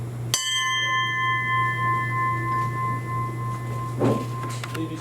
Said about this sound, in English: Toll the bell one time for those still on patrol.